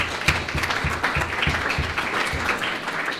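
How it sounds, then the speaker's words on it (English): Audience applause at a hackathon awards ceremony, a room of people clapping steadily with distinct individual claps close by, keeping a fairly even density for the whole stretch. "So give these guys a round of applause for breaking my system."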